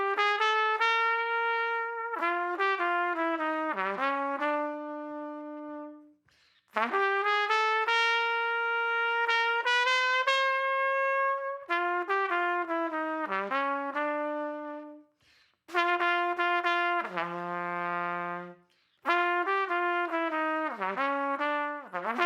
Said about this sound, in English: Listen to the whole complete head